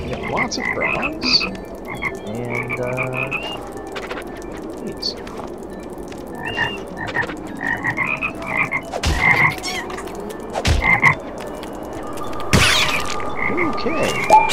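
Frogs in the video game Toki Tori 2 croak repeatedly in short, bubbly calls, several overlapping at close range, mixed with game sound effects and a sharp synthetic burst near the end, while a player speaks briefly.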